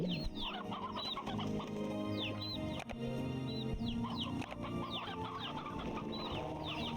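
Chickens and roosters in a crowded video game coop cluck and chirp in a continuous overlapping chorus over steady background music, with repeated bright calls throughout.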